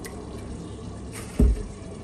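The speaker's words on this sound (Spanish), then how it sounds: "Le voy a agregar aproximadamente 1 tacita de agua." A cup of water is poured into tomato sauce with crushed onion, a short, sudden splash midway through against quiet kitchen background.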